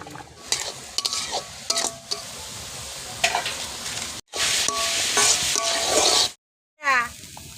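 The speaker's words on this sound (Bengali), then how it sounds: "বিন আর গাজর একসাথে ভাজা হয়ে গেছে" Beans and carrots stir-fried in a pot for vegetable chicken biryani, loud close sizzling broken by repeated scraping and clinking of a spatula against the metal, with brief pauses in between.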